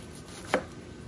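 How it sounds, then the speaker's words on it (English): A single close, crisp knife chop strikes through onion on a cutting board, one brief sharp knock in an otherwise quiet moment. "Now we're just going to chop it down, nothing special."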